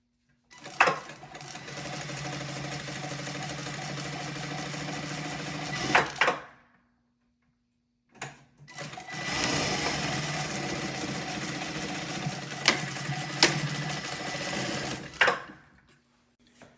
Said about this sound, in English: So right there, she was just sewing together the middle elastic.